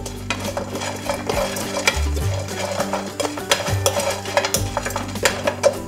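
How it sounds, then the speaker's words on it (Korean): Nuts are stir-fried in a dry pan over high heat, with a busy clatter of a spatula scraping and tossing them against the metal, dense rattling strokes under a light sizzle, close and without talk. "1분 정도 볶아주세요."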